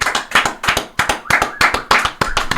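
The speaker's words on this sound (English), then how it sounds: "Can I get a round of applause?" A round of applause at the opening of a UK rap show, heard as sharp, close hand claps in a rapid irregular rhythm, loud and alone without talk.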